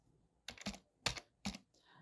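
Someone typing code on a computer keyboard: a few separate groups of sharp, close clicks with short gaps between them in an otherwise quiet room.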